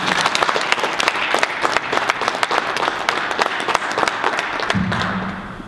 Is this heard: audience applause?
yes